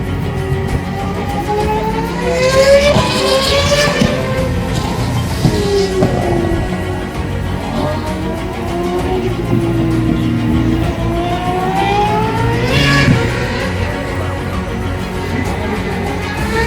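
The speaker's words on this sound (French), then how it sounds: "C'est des F1 du coup? Ouais, une F1, ouais." Older V8 or V10 Formula 1 cars roar past the final corner of a circuit, engine pitch sweeping up and down as several cars pass overhead, loud and continuous with crowd noise beneath.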